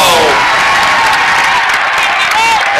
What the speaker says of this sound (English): MG's fired up. Their crowd is fired up.